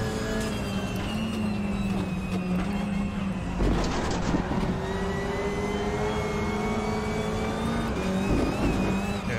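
WTCR touring race cars lapping the Nordschleife in the RaceRoom racing game, a steady engine drone holding on one tone throughout, with a brief burst of louder noise midway, no voices.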